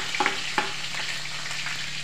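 Chopped chillies sizzle in hot oil in a pan for a fasting-style salted rice dish, a steady frying hiss with a few brief louder crackles near the start.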